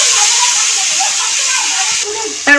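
Tomato paste goes into hot oil over fried tempering spices for a Bengali shol fish curry, giving a steady, close hiss of sizzling that continues throughout, with a voice breaking in briefly at the very end.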